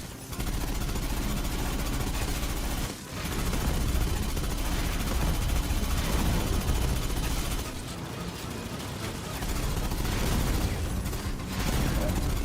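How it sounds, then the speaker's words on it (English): Rockets and heavy weapons firing in the video game Aliens: Fireteam Elite 2, a dense, continuous roar of blasts and gunfire that barely lets up, loud and busy, with a voice talking over it. "Nice rockets."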